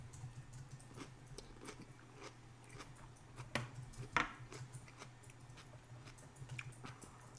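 Someone bites into a thick-cut homemade garlic dill pickle, producing a few soft, close crunches and chewing sounds over a low background hum, with no talk.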